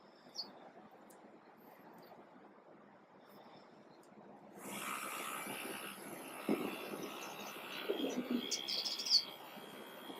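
Birds chirp and tweet outdoors in sunny Miami, Florida, with scattered calls over a steady wind-like rush that swells partway through, plus faint distant background noise.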